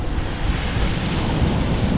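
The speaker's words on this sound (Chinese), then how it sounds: "这海滩太美了。" Ocean waves wash onto a beach in a steady, close, full rush of surf, roughened by wind buffeting the microphone, with no voices.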